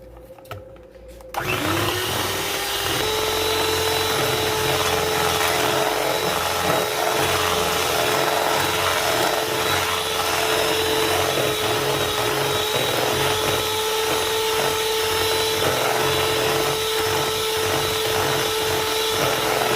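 An electric mixer switches on after a short quiet moment and beats wet ingredients for pumpkin spice walnut bread with a loud, steady whirring whine that runs without a break.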